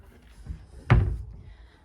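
A wardrobe door in a Cotswolds holiday cottage swinging open, a single close dull thunk with a short rumble, preceded by a faint soft click.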